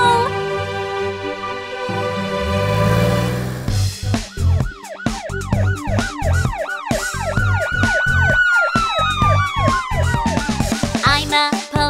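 A cartoon police car's siren wails in a rising and falling pattern over a bouncy children's song, loud and up close, with a voice singing along throughout.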